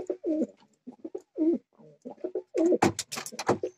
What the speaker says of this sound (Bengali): একদম ক্লিয়ার পায়রা।